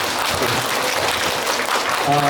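Warm audience applause closing a roughly 90-minute author lecture at a public library, a dense steady clapping that fills the room, with a faint voice near the end.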